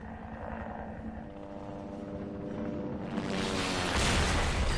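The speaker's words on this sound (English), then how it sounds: "So yeah, you hear the helicopter." A helicopter in Resident Evil 2 drones overhead with a rumbling, rotor-laden roar that swells steadily louder over several seconds as it draws near, ending in a broad, noisy surge.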